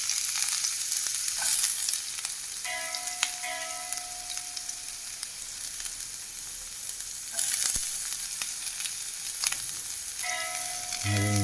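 Onion, green chilli and ginger fry in a pan with a steady crackling sizzle, broken by stirring scrapes and a few clinks, with faint tonal sounds in the background and no talking.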